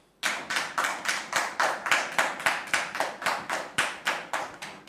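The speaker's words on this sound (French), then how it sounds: "Merci de recevoir Monsieur Lokoulé sous vos applaudissements" An audience welcomes a guest with rhythmic, synchronized clapping, sharp and evenly spaced at about three claps per second. The claps are close and crisp, with nothing else behind them.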